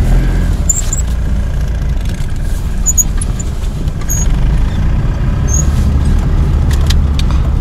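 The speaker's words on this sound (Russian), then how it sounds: "Вот переезд как закрыт, столько машин стоит в ожидании открытия переезда." A queue of cars idles at a closed railway crossing, a steady close low engine rumble and road noise with a few faint high squeaks, no speech.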